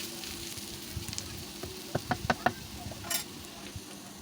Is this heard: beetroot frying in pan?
yes